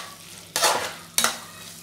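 Vegetables tossed at high heat with chili, tomato and soy sauce for street-style veg chowmein, two loud bursts of sizzling and stirring against the pan over a quiet background.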